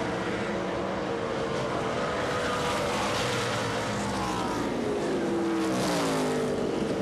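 ARCA RE/MAX Series stock cars roar around the 1.5-mile Kentucky Speedway oval in 2003, a dense, continuous engine drone with rising and falling pitch as the field passes, loud and steady throughout.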